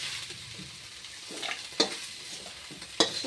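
Dried fish fries in oil in a kadai, giving a soft steady sizzle with spatula stirring and scraping. Two sharp metallic clinks stand out against the pan, close and without speech.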